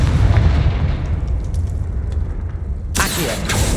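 Confringo spell blast in Hogwarts Legacy, a heavy rumbling explosion that fills the scene and then breaks into a bright, crackling burst toward the end.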